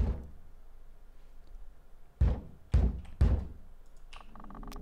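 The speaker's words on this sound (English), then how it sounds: "Someone's banging at my door." Three loud, heavy thuds of someone banging on an apartment door in the Blank Frame video game, after a quiet stretch, spaced about half a second apart and close by.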